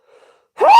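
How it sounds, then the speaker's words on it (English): A single sharp human sneeze bursts out loud and close after a moment of near silence. "I gotta sneeze."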